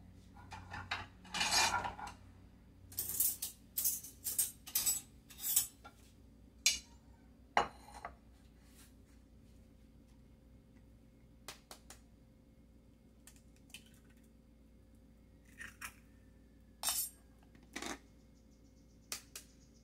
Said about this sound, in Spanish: vamos a empezar a preparar los huevos, los vamos a batir